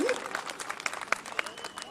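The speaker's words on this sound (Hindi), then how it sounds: "जोरदार तालियां भैया" A crowd at a Jaipur foundation day comedy show claps for a comedian's joke, a brisk burst of mixed applause with a brief voice at the start.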